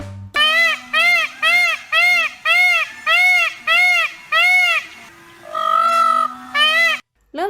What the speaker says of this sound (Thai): เป็นเสียงของนกยุง